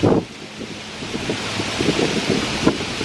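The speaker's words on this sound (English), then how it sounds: "It's really windy." Strong wind buffets the microphone in steady gusts, with a faint wash like surf beneath and no voices.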